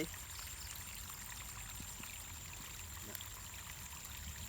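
Water flows in a small stream beside a rice field, a faint, steady trickle and pour heard alone, with occasional soft splashes.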